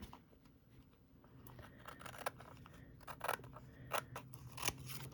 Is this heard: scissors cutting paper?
yes